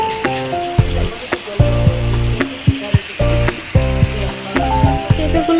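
Boiled green papaya pieces going into a spice paste frying in a pan produce a loud, close sizzle with repeated metallic scraping and clanking of a spoon stirring, plus a sustained tonal hum, with no voices.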